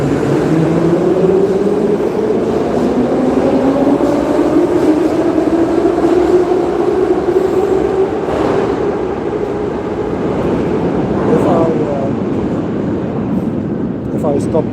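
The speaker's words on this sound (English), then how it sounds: "either because of the noise or because I am in the train" Steady loud rumble and hum from inside a moving passenger train, with rising and falling motor whine tones and faint rail clatter filling the whole stretch, under intermittent background voices.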